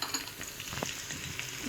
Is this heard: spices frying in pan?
yes